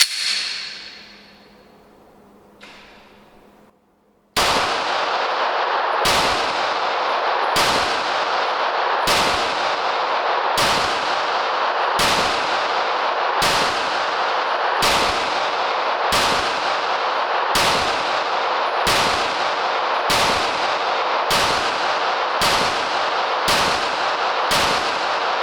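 A Glock G45 MOS pistol fires a full magazine at a range: about fifteen sharp, loud shots in a steady, evenly spaced rhythm, each followed by a brief ring, with no talking over them.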